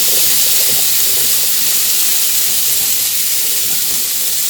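Jicama pieces hitting hot oil in a pan for home fries, a loud, continuous close-up sizzle and hiss that stays steady throughout.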